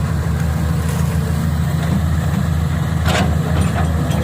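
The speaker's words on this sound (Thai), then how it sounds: "มาดูการทำงานของเจ้าแคท3204ครับ กระบอกแดง" A Caterpillar CAT 320C excavator with red hydraulic cylinders runs steadily at a dredging job site, its deep, continuous engine drone loud and unbroken, with a few faint clanks over it and no talking.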